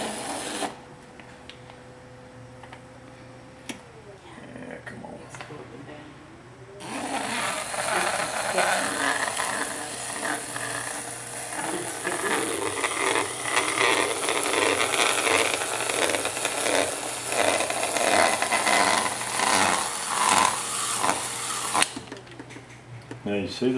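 A chattering tool rasps against a rotating clay pot on a potter's wheel, a steady loud scraping buzz that starts after a few quiet seconds over the low hum of the wheel and stops abruptly near the end.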